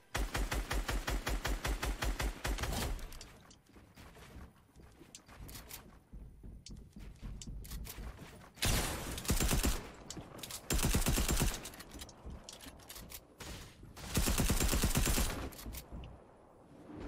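A gold SCAR rifle fires in a video game, loud full-auto bursts in several long runs with short gaps between them, dominating the mix with a little speech.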